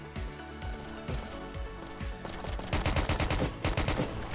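Gunfire in the Roblox game Prison Life: a run of sharp shots that speeds into dense, rapid bursts toward the end, loud and close, with no talking.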